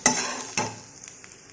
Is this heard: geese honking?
no